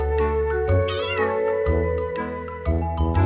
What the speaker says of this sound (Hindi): जरा इसकी आवाज सुनो, ये कितने प्यार से म्याऊं कर रही है।